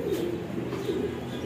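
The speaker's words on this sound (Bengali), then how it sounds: "অনেক অনেক কবুতর এখানে" Many pigeons coo together in a steady, low, overlapping murmur at a home pigeon loft, close by and continuous throughout with no voices.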